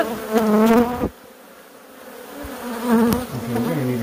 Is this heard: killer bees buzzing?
yes